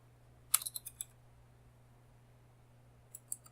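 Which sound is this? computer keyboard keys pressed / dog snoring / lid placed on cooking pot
computer keyboard keys pressed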